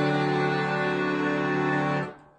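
A dense, bright accordion chord blasts out as a surprise sound and holds for about two seconds before cutting off abruptly, played alone at moderate volume.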